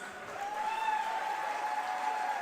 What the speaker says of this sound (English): let's have the loudest round of applause